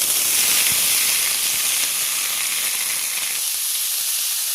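Pumpkin pieces fry in a hot pan with garlic, green chilli and oil, giving a steady, loud hiss and sizzle that carries on without a break, easing a little toward the end.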